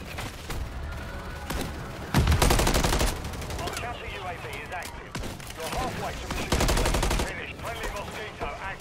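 Bursts of rapid automatic gunfire in a Call of Duty zombies match, loud and close, come in two long volleys over a steady game background with scattered smaller shots and effects.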